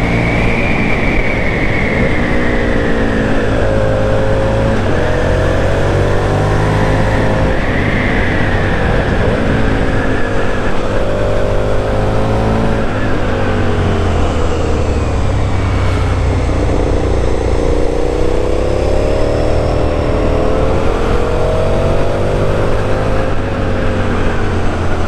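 A 2006 KTM SuperDuke 990 motorcycle engine drones loudly and continuously while riding through curves, its pitch rising and falling as the throttle opens and eases, with wind rush and no talking.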